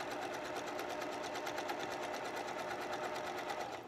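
A sewing machine stitches steadily around a curved scooped neckline of a dress, its fast needle chatter running continuously and close at an even rhythm with no pauses.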